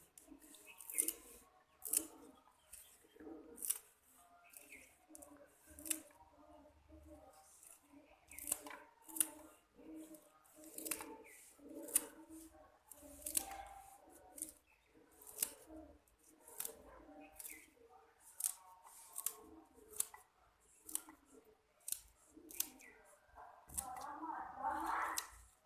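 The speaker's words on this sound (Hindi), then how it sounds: "अब हम पालक काटेंगे, प्याज काटेंगे" A knife chops fresh spinach on a board in quick, irregular taps, close and fairly quiet, with a few louder strikes and short pauses between runs.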